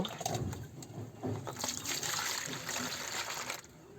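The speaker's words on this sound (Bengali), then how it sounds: "শ্যাম্পু দেওয়ার পরে আবার পানিটা দিব" Water pours and trickles over a pigeon being bathed after shampooing, a soft continuous splashing flow that rises and falls across a few seconds without speech.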